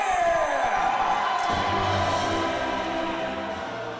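An arena audience at a Medieval Times dinner show cheers, with a swell of crowd noise at moderate distance that fades gradually after a sustained tone, alongside a faint voice.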